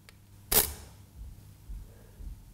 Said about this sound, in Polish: bardzo piękny odgłos migawki.